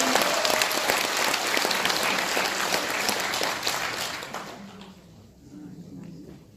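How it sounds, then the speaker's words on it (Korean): An audience at a conservative party debate forum applauds to welcome a lawyer and former lawmaker to the podium, a thick crowd clapping that holds strong for several seconds, then drops away into near quiet with scattered sounds. "박수로 환영해 주시기 바랍니다."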